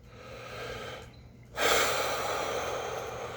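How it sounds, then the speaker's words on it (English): A person draws a deep breath during a relaxation exercise: a soft airy exhale fades into a brief near-silence, then a long, close, steady inhalation of rushing breath follows, with no talking. "You're going to take a third deep breath"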